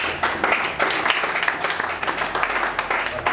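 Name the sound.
applause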